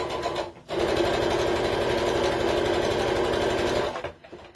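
A sewing machine stitching a wallet runs in one steady, close burst of about three seconds, with brief quiet gaps before it starts and after it stops.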